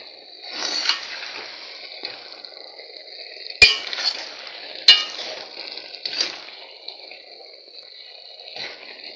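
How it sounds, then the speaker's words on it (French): Spinach stirred in an open pot as its water cooks off: a spoon scrapes and clinks against the metal pot in irregular strokes over a soft steady sizzle, with two sharp knocks standing out, close and clear. "je vais constamment remuer jusqu'à ce que l'eau aura complètement tari"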